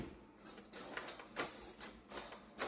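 Small servos on an RC model plane driving the rudder and elevator, giving several short, faint whirring buzzes in quick succession, close by with no talking.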